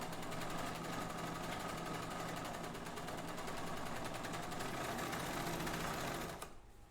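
A serger sewing machine running continuously, knife trimming and overlocking fabric edges at a zipper seam, a fast steady loud whir close up that stops abruptly near the end.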